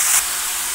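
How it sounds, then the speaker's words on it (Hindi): Pumpkin (kohra) pieces hitting a hot pan for bhujiya, giving a brief loud burst of hissing sizzle that settles into a steady, softer frying hiss. "अब हम इसमें अपना ये डालते हैं सब्जी, कोहरा"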